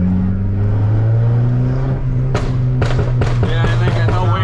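An idling MK4 Volkswagen GTI 20th Anniversary Edition with a new exhaust rumbles on its two-step launch control, then bursts into a rapid series of sharp, loud exhaust pops and bangs while flames shoot out.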